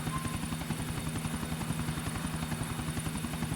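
Helicopter in Grand Theft Auto IV, a steady rapid rotor chop with a droning engine hum, constant and close throughout with no talk.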